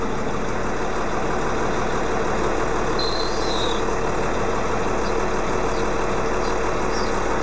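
A JCB Fastrac 3185-3220 tractor engine idles in a video game mod, a steady, unbroken mechanical drone throughout with a faint higher tone drifting in the middle and no voices.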